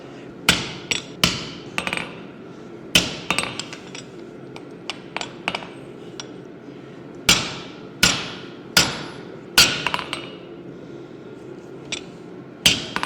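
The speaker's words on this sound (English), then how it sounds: "now I can put this in and hammer it over the drift" Sharp ringing hammer blows on hot wrought iron worked over a drift while forging an axe come in uneven clusters, each strike a bright metallic clang with clinking rebounds, up close and loud.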